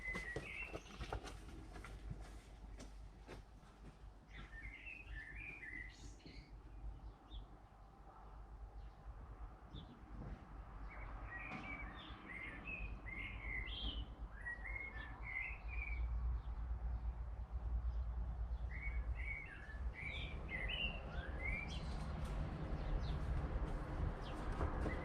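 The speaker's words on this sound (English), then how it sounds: "Hope you enjoyed the sounds of the birds." Birds chirp and tweet in short bright bursts over steady outdoor background noise, with a low rumble of distant traffic throughout.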